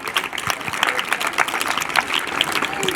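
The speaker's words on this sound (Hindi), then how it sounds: "जोरदार तालियां लगाओ बच्चों।" Schoolchildren at a government girls' school clap loudly together, an uneven, fairly close patter of many small hands with distinct sharp claps standing out, faint voices mixed in.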